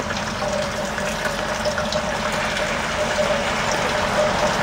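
Water is poured steadily while making beer, a constant broad rushing and splashing that runs unbroken and fairly loud from start to finish.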